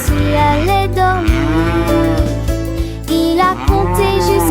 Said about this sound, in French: Elle meuglait bruyamment sans aucune inquiétude.